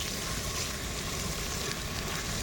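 Onions fry and get stirred in a hot pot for prawn biryani, giving a dense, loud, continuous sizzle up close with no pauses.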